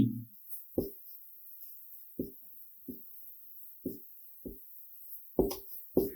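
Chalk or a marker writes a word on a board in a quiet room: a sparse series of short, distinct taps and strokes spaced irregularly, close and crisp, with near silence between them.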